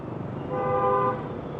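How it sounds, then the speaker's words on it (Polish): A car horn sounds once in a steady toot over the hum of street traffic in Vietnam, moderately loud against continuous road noise. "Nie ma co się przejmować trąbieniem."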